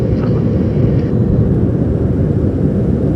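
An Antonov An-124 Ruslan cargo aircraft in flight gives a loud, steady, deep engine roar that holds unbroken throughout, heard up close with no voices.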